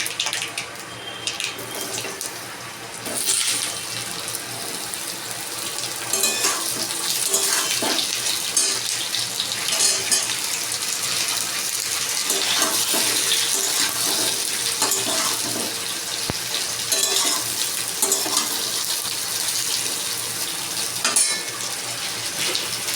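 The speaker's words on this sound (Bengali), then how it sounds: "এবার সমস্ত সবজিগুলোকে ছেড়ে দেবো" Mixed vegetables for Bengali sukto are tipped into hot oil tempered with bay leaf, mustard and radhuni, giving a loud, steady sizzle with fine crackling that runs unbroken throughout, with no voices.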